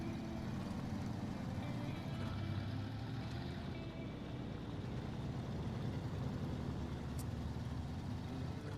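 A truck engine drives steadily in the snowy off-road game SnowRunner, a continuous low rumble sustained throughout at moderate level.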